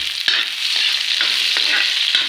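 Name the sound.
onions frying and being stirred in a pan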